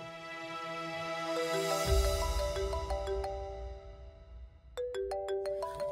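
A mobile phone rings with a melodic ringtone for an incoming call, a repeating chiming tune that plays steadily and fairly clearly, with no voices.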